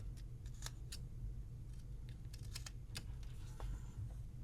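A knife makes a paring cut while carving a small wooden figure, soft scattered clicks and light scraping snaps, close and faint over a low steady room hum, without speech.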